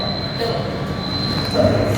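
A Mumbai Metro Line 3 train rolls past on the opposite platform with a loud, continuous rumble and faint wheel squeal, heard up close throughout.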